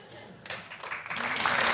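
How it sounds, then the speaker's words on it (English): Studio audience on a comedy panel show breaking into applause, rising from a quiet start into steady, loud clapping by the end, with voices mixed underneath. "What are they clapping?"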